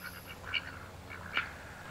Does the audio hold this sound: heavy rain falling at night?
no